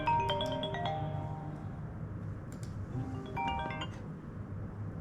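A mobile phone rings in two short bursts of bright, tinkling melodic tones over a quiet indoor background hiss, fairly soft and close.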